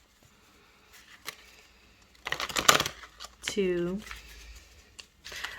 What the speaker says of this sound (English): I think I'm gonna shuffle 3 times and choose from the middle.